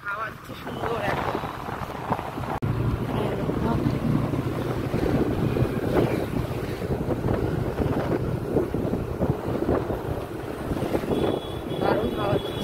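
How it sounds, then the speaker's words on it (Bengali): Strong wind blowing outdoors in Bolpur, Santiniketan, roaring steadily as heavy buffeting on the microphone throughout, loud and close, with a voice speaking over it at times. "দারুণ হাওয়া দিচ্ছে।"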